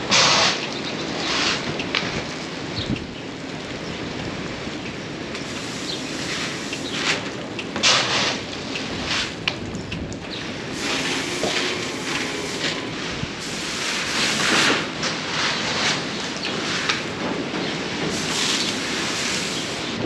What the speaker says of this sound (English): The rain had died down for a few moments, but it's officially back, and it's back with vengeance.